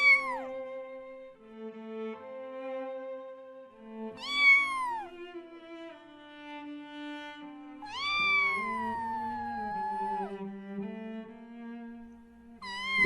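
A kitten meows several times, each call a drawn-out, bending cry with short gaps between them, heard close and clear against a quiet background.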